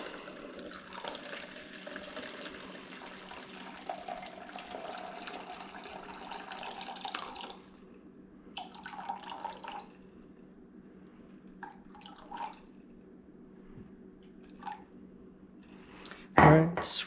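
Ice-cold water, 452 grams of it, poured for New York-style pizza dough; a steady watery pour runs for several seconds, then breaks into a few short trickles and drips before a louder clatter at the end.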